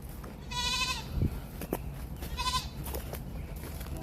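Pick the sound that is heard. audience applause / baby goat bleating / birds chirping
baby goat bleating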